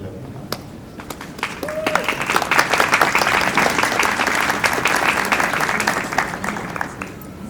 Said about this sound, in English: Everybody can clap.